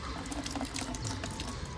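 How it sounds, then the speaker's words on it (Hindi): Water runs from a tap in a home kitchen, filling a container with a steady, soft hiss and splash that stays even throughout. "चलो पानी भर लेते हैं हम"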